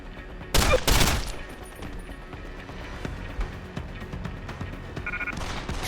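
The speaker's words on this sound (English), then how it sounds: "Gunshots!" Video game gunfire rings out in two loud, rapid bursts early on, then gives way to quieter scattered in-game noises.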